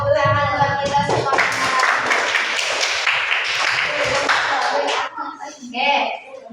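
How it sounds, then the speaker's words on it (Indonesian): A grade 9 class claps hands together during an Islamic religious education lesson: a burst of loud, rapid, scattered clapping lasting a few seconds, with children's voices before and after. "Tepuk tangan buat kita semua."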